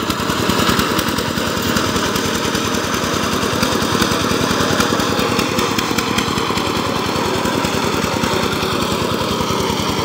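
A power tiller engine runs steadily and loudly while ploughing muddy farmland, a continuous rapid chugging drone that stays at a constant level throughout with no pauses.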